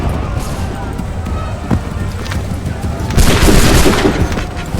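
A volley of musket gunfire in Assassin's Creed 3, with booming shots cracking over dense battlefield noise and a louder burst near the end, mixed with shouted commands.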